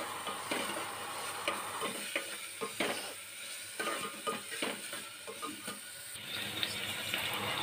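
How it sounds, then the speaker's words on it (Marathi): Chopped onion sizzling in hot oil and ghee for soybean rice, with a steady close crackle and repeated scraping taps as it is stirred around the pan. "हा कांदा आहे ना आपण छान थोडा हलकासा लालसर होईपर्यंत भाजून घ्यायचं तेलामध्ये तळून घेतल्यासारखा घ्यायचा आहे"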